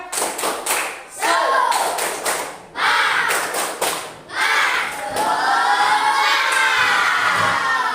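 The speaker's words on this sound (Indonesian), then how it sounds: "Tepuk semangat." A class of students in a classroom does a rhythmic spirit clap, with bursts of loud claps in quick groups mixed with shouted chanting voices, close and energetic.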